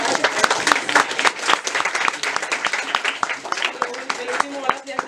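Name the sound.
audience applause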